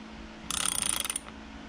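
Wakeboard mount bolts on a Sea-Doo GTX personal watercraft are run down snug with a ratchet, making a quick, close burst of rapid clicks lasting under a second in a quiet setting.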